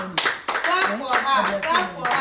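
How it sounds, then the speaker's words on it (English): Children aged six and seven clap for a classmate in an Igbo language summer camp class. Several bursts of clapping come close by, mixed with children's voices. "Clap for her."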